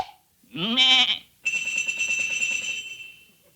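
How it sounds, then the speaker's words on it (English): Comedy sound effect of sheep bleating as a tuned chromatic scale, rung like bells: one wavering bleat, then a sustained bell-like tone ringing out, standing alone without talk. "these sheep are tuned so as to make the chromatic scales"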